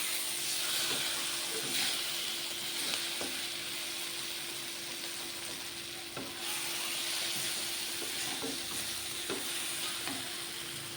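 Brinjal curry sizzles in a pan while a spoon stirs it, a steady frying hiss with scattered scraping taps against the pan, close by.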